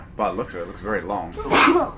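A single sharp sneeze bursts out right after a person's speech during a Pokémon X and Y gameplay session, close and clear.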